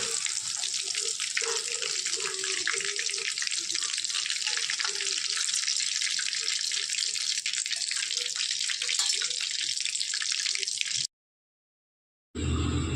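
Fish frying in a deep layer of hot oil, a dense steady sizzle with soft clinks as pieces are flipped, continuous and close, then briefly cutting to silence near the end before resuming.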